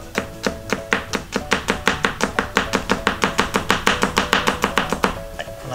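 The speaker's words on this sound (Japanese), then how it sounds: "ニンニク切っていきます。" Rapid, steady knife chopping of raw garlic on a cutting board, with the core removed, for a sake-steamed spring cabbage side dish: about twenty-five close, crisp strokes in an even rhythm, with no talking.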